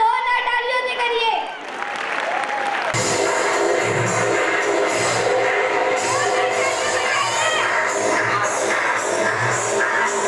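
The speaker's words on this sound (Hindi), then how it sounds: "इनका इस्तकबाल जोरदार तालियों से करिए।" Audience at a school annual gathering program giving strong applause to welcome students performing an Arabic song, a dense sustained round of clapping with crowd noise after a brief spoken introduction.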